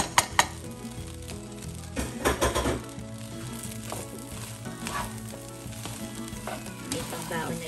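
Ham fried rice with spring onion sizzles in a pan, a steady close frying hiss with a few sharp clinks of utensil against metal and some stirring scrapes, no talk.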